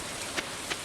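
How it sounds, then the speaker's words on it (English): Rain falls in Stardew Valley, a quiet steady hiss of drops on surfaces with two faint brighter taps breaking through, and no voices. "it is raining on Abigail's birthday"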